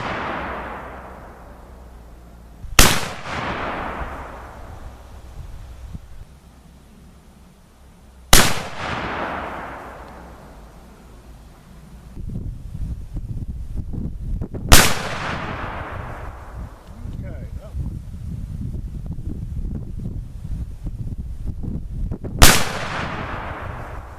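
Four sharp gunshots from a Super Walker revolver fitted with a combination scope and laser sight ring out several seconds apart, each loud crack trailing off into a long echoing decay.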